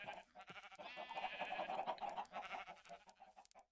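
Sheep bleat in the video game Minecraft: a faint, wavering bleat near the middle, set among quiet game background sounds, with no talk.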